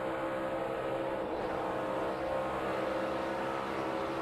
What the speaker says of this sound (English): Did you hear how big he lifted up out of the gas?